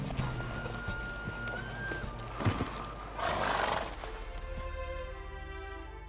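Roach the horse in The Witcher 3 neighs and gallops, hooves clip-clopping in a quick rhythm before a loud whinny near the middle, with faint game music and ambient tones underneath.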